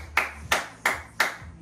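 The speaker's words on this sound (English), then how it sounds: "Give yourself a big round of applause." Four slow, evenly spaced hand claps after a home leg-day workout, each one sharp and close.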